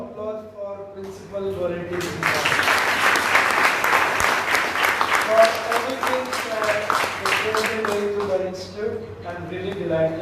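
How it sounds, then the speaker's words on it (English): A burst of applause for a principal at a law college talk swells up and holds for several seconds, with talking before and after it. "Round of applause for Principal."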